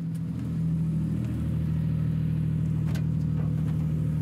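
A racing DeLorean DMC-12 rolls back into the pit with a steady, close, mid-pitched engine hum and a low rumble that rises slightly in the first half-second, then holds even.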